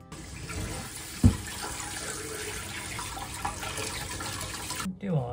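Tap water runs steadily into a sink while squid full of black ink is washed, a soft continuous splashing with a brief knock, under quiet speech.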